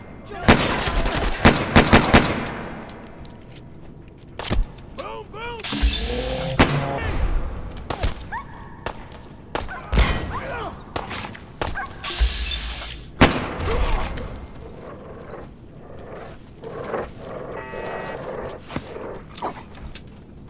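Bursts of gunfire, loud sharp volleys and scattered single shots spread through the scene, with shouting and other effects mixed in between.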